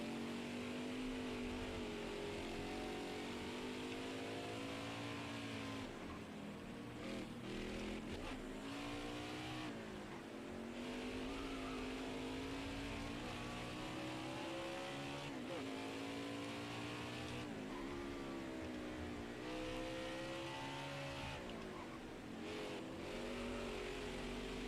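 Stock cars racing in NASCAR Heat 5 during a playoff race: a continuous dense drone of roaring engines, pitch rising and falling as cars rev and shift, with occasional passing surges and faint tire squeal, steady throughout.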